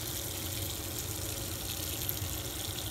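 Steady stream of water pouring into a dog food dish holding dry kibble, a continuous close rushing sound with no speech.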